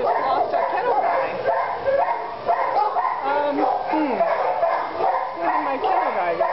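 A male shelter dog at a Los Angeles kennel yips, whimpers and gives short barks close by, repeated through the moment while someone talks to him over it.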